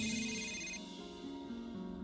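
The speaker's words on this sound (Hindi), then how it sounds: "कि तभी फोन बजा" A telephone ringtone plays alone as a steady electronic melody of held tones shifting in pitch, loud and close with no voices.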